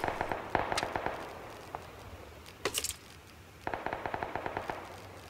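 Bursts of M416 rifle fire in a video game, sharp rapid automatic shots in several short volleys separated by brief pauses, fairly close and crisp, with no talking.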